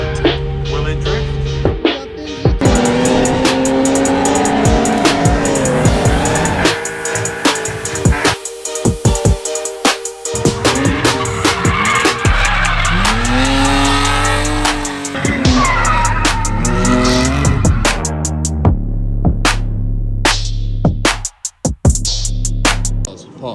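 A drift car revving hard with loud tire squeal and skidding, close and sustained, the engine note climbing and dropping through repeated slides before a brief sputtering lull near the end.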